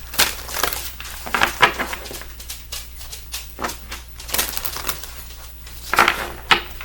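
Oracle cards riffle and slap in a series of sharp, papery bursts, close and fairly loud over a quiet room hum, with short pauses between shuffles and no speech.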